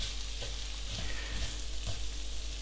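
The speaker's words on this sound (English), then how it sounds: "In go our beautiful white onions." Finely chopped white onions fry in butter with spices and herbs, giving a steady close sizzle broken by a few soft stirring knocks, with no one talking.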